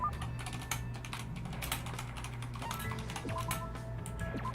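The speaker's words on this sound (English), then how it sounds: "I'm typing in chat." Typing on a computer keyboard in chat: close, rapid clusters of key clicks in an uneven rhythm over a low steady hum, with no talking.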